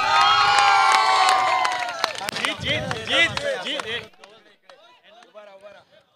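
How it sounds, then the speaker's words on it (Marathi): A crowd at a prize distribution for a local sports festival in Kalyan cheers a winning team with loud shouting and scattered clapping. The noise drops sharply as excited individual voices carry on. "जोरदार टाळ्या वाजवू पूर्ण टीमला"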